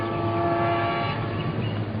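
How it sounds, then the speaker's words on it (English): A steam train rumbles steadily along with a low continuous drone and a sustained whistle-like tone, heard at moderate distance without any voices. "if you let Crazy Horse attack this train"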